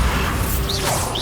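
Bombarda blasting spell cast in the video game Hogwarts Legacy, a dense, continuous crashing roar with whooshing swells, loud and close throughout the brief burst.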